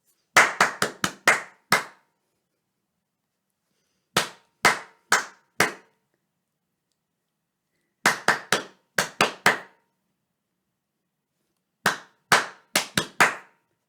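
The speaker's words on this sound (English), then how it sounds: "If I clap that one and you clap it back, you're out of the game." A lone person claps out short rhythmic patterns in a classroom clap-back game, four groups of crisp, close hand claps separated by silent pauses, each group holding about four to six claps.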